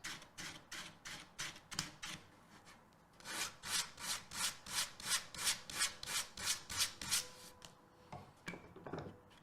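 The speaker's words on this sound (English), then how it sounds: "Sandpaper again. Take down your edges." Sandpaper rubbed back and forth along the edges of iron-on edging tape on a wooden shelf, a steady run of close, rhythmic rasping strokes that speed up and grow louder midway, heard alone without talk.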